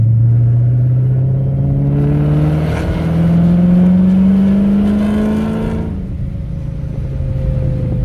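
A car engine in fourth gear on direct drive, running on racing 15W-50 oil, pulling up from about 1500 rpm: a loud, close, steady rising drone that climbs for several seconds, then eases back to a lower hum.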